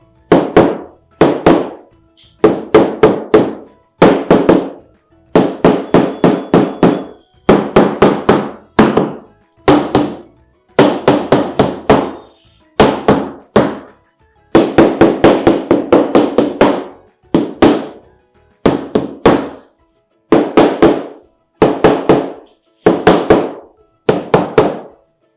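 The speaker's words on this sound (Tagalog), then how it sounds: "a rubber mallet." Rubber mallet tapping tile into place during tile setting, a long series of dull, close thunks in quick bursts of several blows each, with short pauses between groups and no talk.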